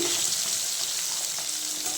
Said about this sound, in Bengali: আর এদিকে দেখো মাছ ছিল ফ্রিজে, তো মাছটা ভাজা করছি।